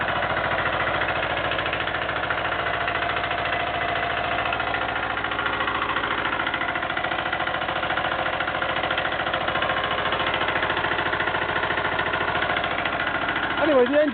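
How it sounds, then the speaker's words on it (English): A Petter AC1ZS small single-cylinder engine runs steadily at an even, close, continuous throb with no change in pace throughout. "the engine runs really sweet"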